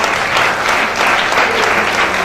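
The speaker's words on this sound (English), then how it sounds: "A very serious round of applause for all the aspirants." Applause from an audience at a political media event, a steady burst of clapping lasting a couple of seconds, fairly close and full.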